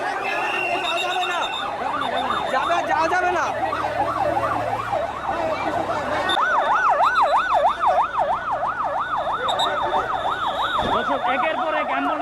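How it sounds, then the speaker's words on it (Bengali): Ambulance sirens wail one after another as emergency vehicles arrive at a plane crash scene, their rising and falling tones loud and close over crowd noise and voices. "একের পর এক অ্যাম্বুলেন্স কিন্তু আসলে ভিতরে প্রবেশ করছে।"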